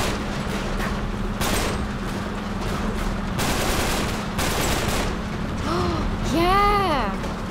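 Gunfire in the Uncharted 3: Drake's Deception settlement level, with loud broadband bursts of shots and volleys recurring over several seconds against a steady game ambience, with some tonal effects near the end.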